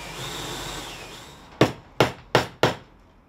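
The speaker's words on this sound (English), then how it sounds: "by marking out where I want the mortise to do, and then I'm going to drill it and cut it" Four sharp, evenly spaced mallet blows on a chisel ring out close and loud while a wood mortise is cut by hand for a costermonger's cart frame, after a quiet stretch of faint room noise.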